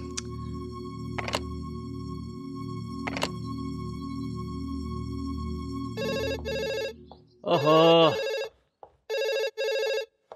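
A telephone rings in repeated electronic bursts, preceded by a low hum and a couple of sharp clicks, with a brief exclamation from a voice between rings.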